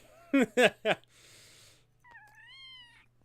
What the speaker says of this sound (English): as you can tell, this cat comes in